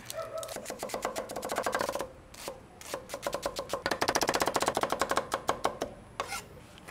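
An onion being finely chopped with a knife on a board: quick rhythmic bursts of close, crisp blade taps, pausing briefly before resuming in fast runs.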